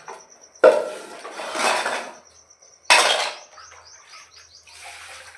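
Pots, pans and utensils clatter loudly while dishes are washed, two sharp metallic bursts followed by softer rattling, with a bird chirping faintly in the background.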